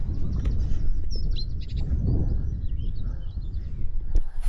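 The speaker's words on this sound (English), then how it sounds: "It's absolutely packed with birds around here." Many birds chirp and sing outdoors in warm British countryside, a dense mix of small tweets and calls of moderate loudness over a steady low rumble of wind, with no talking.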